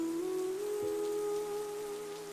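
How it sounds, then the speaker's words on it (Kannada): Rain falling steadily as a continuous soft wash with a low hum beneath, no voices present. "ಮಳೆ ಅಲ್ವಾ?"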